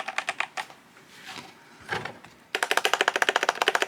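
Rapid typing on an IQUNIX Wormhole OG 80 keyboard with a frosted body, close and crisp: scattered keystrokes and a few space bar presses at first, then a fast, even burst of clacks.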